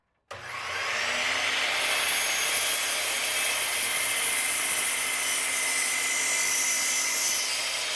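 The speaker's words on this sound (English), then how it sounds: "That 12-inch miter saw cuts this like butter." A 12-inch miter saw spinning up abruptly and cutting through a 4x4 wooden post outdoors, a loud, steady, high whining roar that holds for several seconds.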